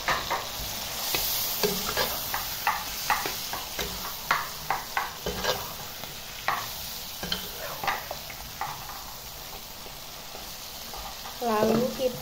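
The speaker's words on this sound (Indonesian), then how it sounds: "Setelah bumbunya wangi, kita masukkan ayamnya." Chicken cooking in spice paste in a pan for sambal ayam cabe ijo, a steady frying sizzle broken by repeated clinks and scrapes of stirring, with a voice speaking softly under the sizzle.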